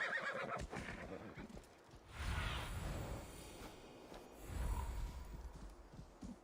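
A horse in Assassin's Creed Valhalla gives a loud whinny amid clip-clopping hooves and game background sounds, with a second neigh a few seconds later.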